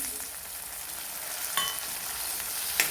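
Chopped onion and tomato fry in a pan with a soft, steady sizzle and a couple of brief stirring scrapes. The sound is quiet and close, with no voices.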